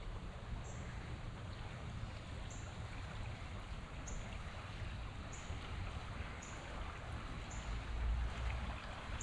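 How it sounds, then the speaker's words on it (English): Fast-flowing river water, swollen by floods, rushes in a steady broadband roar with some wind noise, fairly faint and continuous, with a few soft high beeps recurring at intervals. "Look at how fast the water is going around there."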